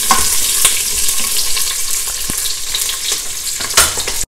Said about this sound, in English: And saute them till the onions are a little bit cooked.